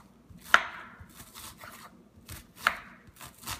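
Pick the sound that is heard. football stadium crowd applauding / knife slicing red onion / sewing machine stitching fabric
knife slicing red onion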